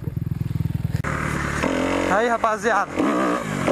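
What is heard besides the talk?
motorcycle ride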